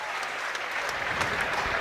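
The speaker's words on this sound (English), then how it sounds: "He gets a round of applause by a number of his teammates, does Josh Stone." Steady applause from a football crowd at a York City v Brackley Town National League match, a dense continuous clatter of clapping heard from a distance.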